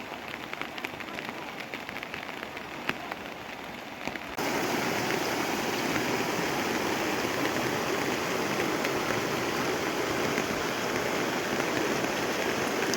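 Rain falls over rice paddies in the countryside of Laos, at first a lighter patter with a voice talking, then swelling suddenly into a loud, steady downpour that holds to the end.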